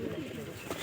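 Pigeons coo in low, soft repeated notes, steady and close throughout the short moment with no talk.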